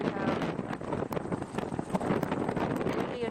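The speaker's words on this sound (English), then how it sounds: "the wind is picking up" Gusty outdoor wind buffets the microphone with a continuous rushing roar, loud and close, with a few sharp knocks and rustles mixed in.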